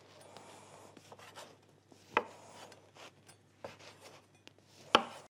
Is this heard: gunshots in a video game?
no